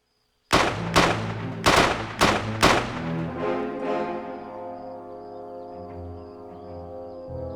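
Five loud gunshots in the period drama game Herald ring out in a steady rhythm, each with a long echoing tail, the last reverberation fading under a low musical drone.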